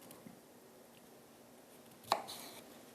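A knife cuts through a head of cauliflower in a kitchen, giving one sharp crunching chop, close and fairly faint, against quiet room noise.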